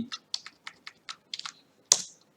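Close, crisp computer keyboard keystrokes while text in a database query is deleted: a quick run of about a dozen separate clicks, then one louder final key press, in a quiet room with no talk.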